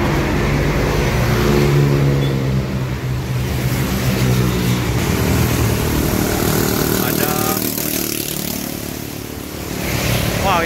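Two buses, including a Palala E13, race each other along a road in Padang, Indonesia; loud, steady engine roar and road noise fill the whole stretch, swelling slightly near the end.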